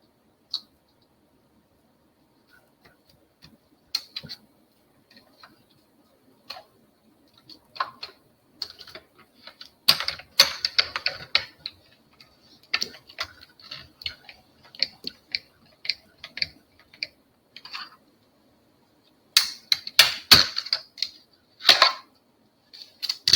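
A Stampin' Up mini paper trimmer cuts cardstock with scattered light clicks and ticks that gather into denser bursts of sliding and snipping, close and quiet, with no voices.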